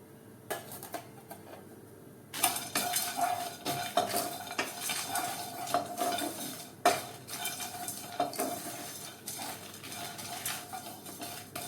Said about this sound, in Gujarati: અડધી મિનિટમાં મસાલા શેકાઈ ગયા છે ચટકવાનો અવાજ પણ આવી રહ્યો છે